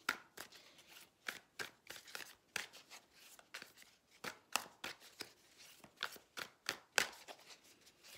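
Tarot cards being handled and drawn: a steady run of crisp taps, flicks and card slides close by, irregular but continuous, quiet and with no voice over them.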